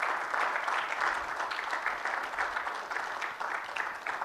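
A church congregation claps together in steady, sustained applause at moderate loudness, a dense wash of overlapping hand claps with no voices standing out.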